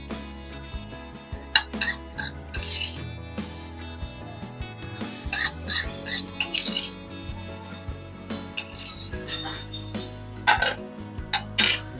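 Homemade pizza sauce being stirred in a pan, with clinks and scrapes of a utensil against the metal at an irregular pace, close up, and faint clatter in between.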